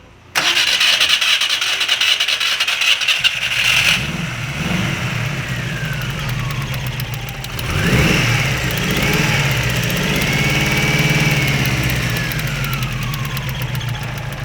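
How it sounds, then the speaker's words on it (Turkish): A Skoda Favorit 1.3 petrol engine cranks and fires after a quiet start, then settles into a steady idle with a slight belt-like squeal, the running sound staying loud and close throughout. "Aracımızı bir çalıştıralım ve sesini sizlere de dinletelim."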